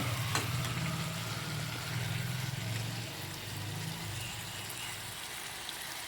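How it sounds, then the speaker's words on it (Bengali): Meat sautés with a ginger-cumin spice paste, giving a moderate, continuous sizzle over a low droning hum in the background. There are no voices. "মাংস মাংসটাও বেশ ভালো করে কষা হচ্ছে দেখতে পাচ্ছ"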